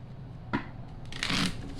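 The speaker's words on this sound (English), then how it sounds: "Two shuffles." Tarot cards shuffled twice in a quiet room: a short riffle, then a longer, brighter flutter of cards, close and fairly soft.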